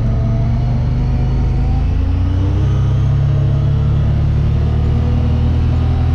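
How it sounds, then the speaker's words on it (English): A Honda Pioneer 1000-6 side-by-side hauling about 500 pounds of wood in tow-haul mode, its engine revving steadily near 5,000 RPM with a loud continuous drone and rising harmonic whine, close and without talk. "It's revving it up how it should."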